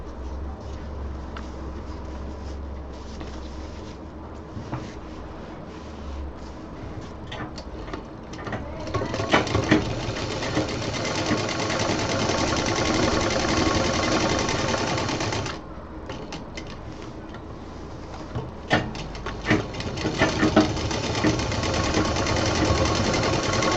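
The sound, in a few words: sewing machine stitching a baby diaper bag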